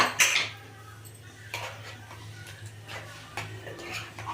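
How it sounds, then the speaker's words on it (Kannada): Metal clanks and clicks of a pressure cooker lid being handled and lifted, a few sharp knocks and scrapes over a low background hum. "ನಾನು ಕುಕ್ಕರ್ ಕುಕ್ಕರ್ ಮುಚ್ಚಳ ತೆಗಿತಾ ಇದ್ದೀನಿ"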